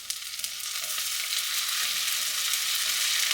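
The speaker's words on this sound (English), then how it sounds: "I always add a little bit of coconut oil to whatever I'm doing when I'm cooking" Peppers sizzle and fry in coconut oil in a pan, a steady bright hiss that builds slightly and holds, close up and without talk.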